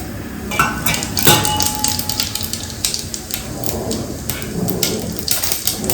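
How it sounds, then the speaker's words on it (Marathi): Cumin seeds sizzling in hot oil in a home kitchen, a continuous close crackling hiss with scattered sharp pops and light utensil clinks. "तर तेल टाकले वाटतं, तर जिरे टाकून घेते"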